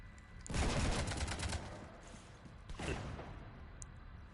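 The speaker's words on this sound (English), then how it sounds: "You want to stop shooting up my ship?" Bursts of gunfire in Mass Effect 3 as shots rake a ship, one rapid volley followed by a second shorter burst a couple of seconds later, fairly faint with no talking.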